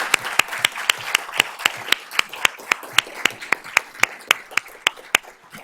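Applause at a school district Board of Trustees meeting: sharp, evenly spaced claps come about four per second in a steady rhythm, sounding fairly close and crisp, with no speech over them.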